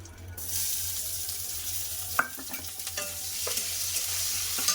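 Bay leaf and chopped onion frying in hot oil in a pan after fried potatoes come out, a steady close sizzle with stirring scrapes and a brief sharp clink partway through.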